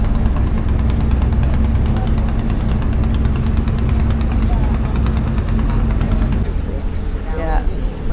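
A small tour boat's engine drones steadily as the boat pulls away from the dock in Vietnam's scenic Ha Giang area, a constant low hum with wind and water noise over it.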